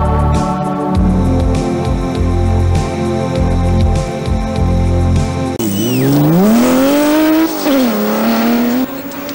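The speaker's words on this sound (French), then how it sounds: "There's also the stunning 400 horsepower BMW M1, the most powerful rally car in the world." A 400-horsepower BMW M1 Group B rally car roars loudly, its engine note climbing and falling as it revs and accelerates, with a tire squeal near the end over a busy background mix.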